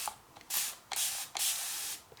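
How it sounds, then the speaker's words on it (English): Small spray bottle misting water onto tiny moon moth caterpillars in a humid rearing setup: three short, close hissing bursts separated by brief pauses. "I'm gonna give them a mild spray."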